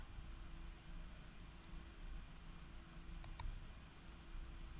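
Two quick, faint computer mouse clicks close together over a steady low background hum, with no talking.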